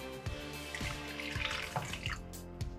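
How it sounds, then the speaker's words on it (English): Boiling water poured from a kettle into a spicy fish curry sauce in a pot, a steady splashing pour with a few brief bubbling surges, close and continuous. "Then I'm gonna add some hot water, boiling water in there, to make it a little bit creamy"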